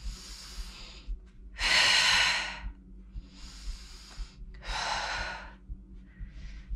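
Deep breathing during an exercise movement, slow audible breaths in and out with pauses between them, heard close and alone.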